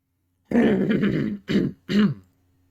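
A throat clearing, one long rasping burst followed by two shorter coughing pushes, close and fairly loud, then quiet.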